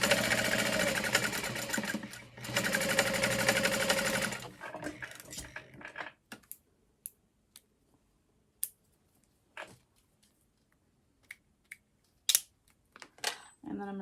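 Sewing machine top stitching fabric for a bowler bag, a loud whirring run broken by a short pause, then stopping and leaving scattered clicks and handling sounds.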